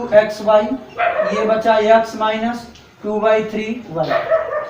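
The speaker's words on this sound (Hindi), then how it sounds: "हाँ, कुत्ता भौंक रहा है" A dog barks repeatedly in the background, heard under a teacher's continuous speech during a Class 9 maths lesson on polynomials.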